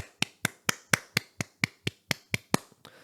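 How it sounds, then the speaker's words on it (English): Eleven sharp hand claps from a single person, evenly spaced in a steady rhythm, close and clear with nothing else around them. "if you didn't know, that was me clapping"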